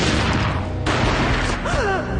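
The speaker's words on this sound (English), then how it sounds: "A gunshot boomed and she fell down in slow motion." A loud, booming gunshot from the Max Payne action video game hits once amid a dense, noisy cutscene soundscape, followed by a brief high whistling tone.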